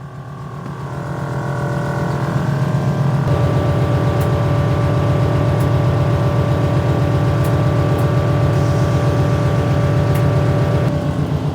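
A small car's engine idles close by: a steady, loud, low rumbling drone that holds unbroken throughout, with a few faint ticks above it and no talking.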